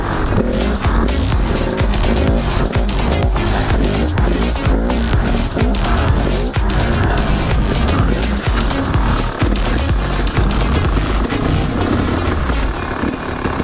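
Motorcycle fitted with a stunt bar revving loudly through a low-rev wheelie, a continuous close engine roar with surging throttle and a faint tire squeal throughout.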